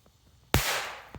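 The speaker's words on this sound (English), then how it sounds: "here we go with the Black Cat Firecracker" A Black Cat firecracker goes off with one sharp, loud bang that decays into a short hissing rumble, followed by a fainter pop about half a second later.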